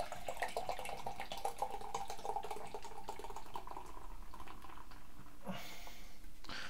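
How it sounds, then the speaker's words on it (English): A double IPA is poured from a can into a glass, a quiet, close gurgling stream with faint fizzing that runs for several seconds, then a brief final splash. "Let's get the pour out there."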